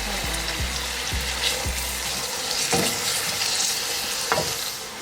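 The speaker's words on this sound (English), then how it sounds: "I'm just gonna saute my peppers." Peppers and minced garlic sauté in a hot pan with a loud, steady sizzle. Several low thumps of stirring come early, followed by a couple of scrapes as the food is moved around.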